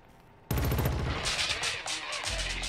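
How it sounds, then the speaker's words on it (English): Rapid bursts of gunfire in the shooter game Killzone Shadow Fall break in suddenly and keep going loud and dense, with a heavier low thump near the end. "shooting them through the tarp."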